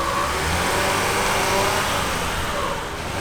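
A Mazda Miata accelerating hard with wheel spin during a burnout-style launch, its engine roar and broadband tire noise filling the air loudly and steadily with no talk.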